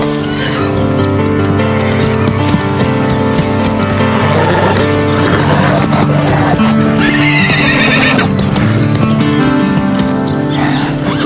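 A horse refusing a jump at a wall neighs and its hooves thud amid a loud, dense wash of background music or crowd noise throughout.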